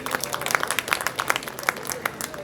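An audience claps together at the inauguration of an Urdu book fair, a steady patter of many hands that carries on through the whole stretch, fairly loud and even, with no talking over it.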